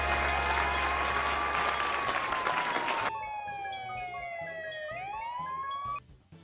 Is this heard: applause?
yes